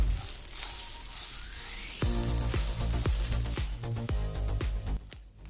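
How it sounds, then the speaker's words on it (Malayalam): Grated coconut and green chillies frying in a pan on a medium flame, a steady close sizzle with rhythmic stirring scrapes and light knocks of a spoon. "ഈ ഒരു തേങ്ങയുടെ കൂടെ പച്ചമുളകൊക്കെ വറുത്തെടുക്കുമ്പോൾ നല്ല ടേസ്റ്റ് ഉണ്ട്"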